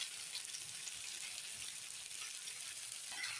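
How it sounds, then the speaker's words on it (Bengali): Onion, tomato and spices with salt and chili powder frying in oil as they are stirred, a steady close sizzle that stays even and continuous throughout. "ভালো করে নেড়ে দিচ্ছি মশলা একসঙ্গে। মশলা থেকে তেল ছেড়ে যাচ্ছে বন্ধুরা"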